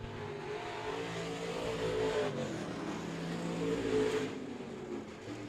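A modified race car runs a lap, its engine droning and rising as it accelerates, heard at moderate distance and fairly faint, steady throughout with no talking.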